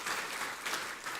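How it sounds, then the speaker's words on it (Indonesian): Faint, distant crowd applause rising as a broad wash of clapping during a public speech event in Indonesia. "Tepuk tangan buat Surabaya."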